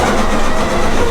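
A sewing machine edge stitching pockets onto an apron made from vintage linens, running in one fast steady mechanical whir with no pauses.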